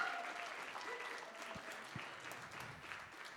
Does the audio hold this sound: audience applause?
yes